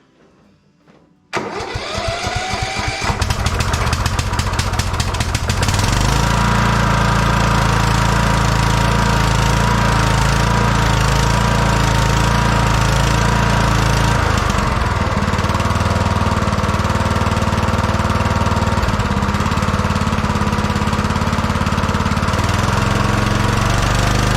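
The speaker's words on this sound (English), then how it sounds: "I can't run my tractor like that. But I want to try this, so stand by, we're going to try and start it." A tractor engine fitted with a HIPA carburetor, started on full choke, catches after a second or so of cranking and then runs loud and steady, roaring continuously up close.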